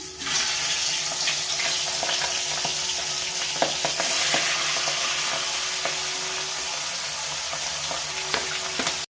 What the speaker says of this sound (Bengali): তো আমি এবার মাছের মাথাটা ভেজে নিচ্ছি।